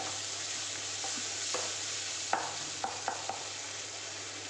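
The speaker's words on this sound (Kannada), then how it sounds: "ಇವಾಗ ಈರುಳ್ಳಿ ಬೇಯ್ತಾ ಇದೆ." Onions cook in a pan with salt, giving a steady close sizzle and frying hiss, with a few light scrapes and taps of a spoon stirring. No voice is heard.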